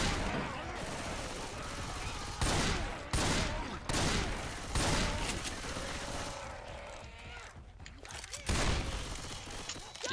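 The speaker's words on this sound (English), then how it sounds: "Shoot the shit out of that thing." Gunfire in Left 4 Dead 2 crackles in loud repeated bursts of rapid shots, separated by short gaps, with a few heavy booms and game noise between volleys; close and dominant.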